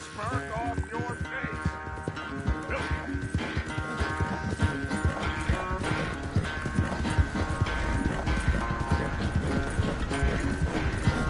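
Horse hooves clip-clop at a steady walking rhythm in Red Dead Redemption 2, close and clear over a layered orchestral music bed with harness jingles.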